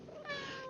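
A house cat gives a single short meow, close and fairly quiet, with no talking over it.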